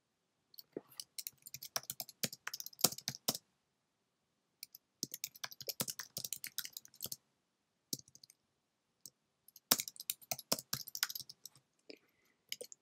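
Computer keyboard typing while entering text into a Google Slides board-game layout: three quiet bursts of rapid key clicks separated by short silences, close and dry, with no voices.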